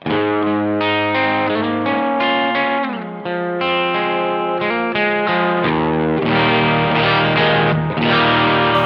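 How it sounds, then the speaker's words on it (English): A high-gain, distorted electric guitar through an amp simulator plays sustained chords and phrases, loud and thick throughout, with no speech. "There's a high gain sound if I roll my volume back."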